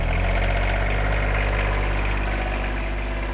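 A Rural King RK25 compact tractor engine runs loud and close with a steady low rumble and vibration, holding an even drone throughout.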